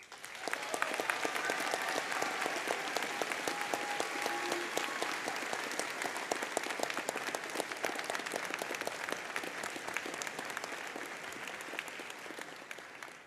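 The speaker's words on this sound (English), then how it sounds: "Everyone, please join me one last time in applauding our graduates." Audience at a college commencement ceremony applauding the graduates, dense, sustained clapping from a large crowd that holds steady for the whole stretch.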